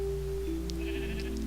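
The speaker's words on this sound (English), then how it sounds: "Shut up, sheep." A Minecraft sheep bleats in a village over a steady synthetic background tone, a couple of short nasal calls in quick succession.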